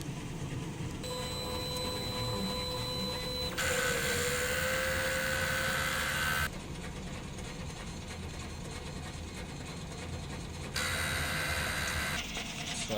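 A DTF printer running its print head cleaning cycle produces mechanical whirring and clicking with high whining motor tones that switch on and off in distinct stages over a steady background hum.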